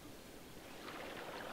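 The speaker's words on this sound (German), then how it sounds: "Ich höre Wasser." Steady rushing flow of water from a river or stream in the city-building game Cities: Skylines, a soft continuous wash heard alone at a fairly even level.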